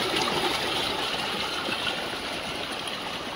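Water gushes steadily out of a drained rice field through a channel, a continuous rushing flow heard alone at close range.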